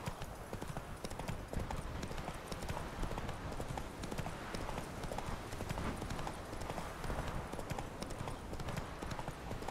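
Geralt's horse in the video game The Witcher 3: Wild Hunt gallops with rapid, steady clip-clop hoofbeats that continue throughout, dense and fairly loud.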